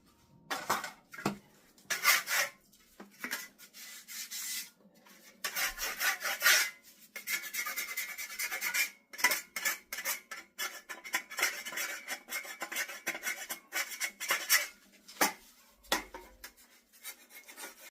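A steel trowel scraping and skimming drywall compound across a wall, with repeated rasping strokes in irregular bursts separated by short pauses, close and clear with no talking.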